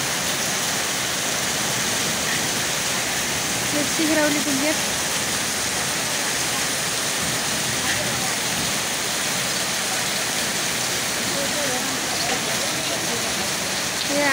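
Steady rain pours down outdoors in Gaindakot, Beldiha, a dense, even hiss that lasts throughout, with a person speaking briefly over it.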